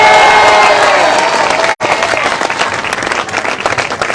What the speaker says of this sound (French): le plus d'applaudissements pour Thomas Pesquet